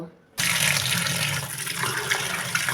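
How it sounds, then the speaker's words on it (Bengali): Tap water gushes steadily into a sink as raw pomfret fish is washed, starting abruptly and running loud and close with a constant splashing rush. "বাজার থেকে পমফ্রেট মাছ এনেছে, এখন আমি ভালো করে ধুয়ে নেব।"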